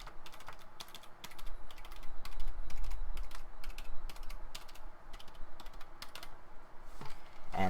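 Crisp, closely heard clicks of keys being pressed on a Wolf Claw Devour PC gamepad, tapped in a steady run of separate presses with a soft low rumble underneath and no talking.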